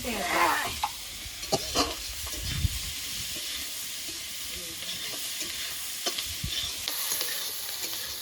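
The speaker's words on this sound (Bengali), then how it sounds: "পেঁয়াজ রসুনগুলো ভালো করে ভেজে নিয়েছি" Onion and garlic frying in a pan with salt and turmeric, a steady close sizzle broken by repeated scraping stirs of a spatula across the pan.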